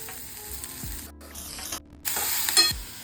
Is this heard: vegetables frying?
yes